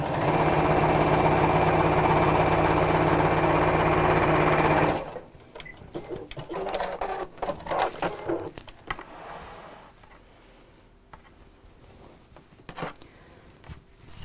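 A sewing machine stitching down quilt wadding runs loud and steady for about five seconds, then stops, leaving quieter handling rustles and clicks.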